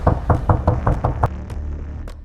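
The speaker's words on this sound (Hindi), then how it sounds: "अगर इस वक्त आपके घर के बाहर कोई दरवाजा खटखटाए" Someone knocks on a house door late at night with a quick series of about seven firm, close knocks, followed by a couple of fainter taps.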